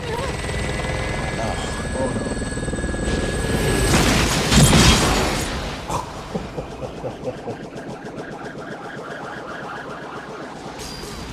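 A helicopter exploding in a John Woo action film, with rotor and engine roar building to a loud blast burst, then debris clatter and rhythmic thuds fading; a voice exclaims briefly.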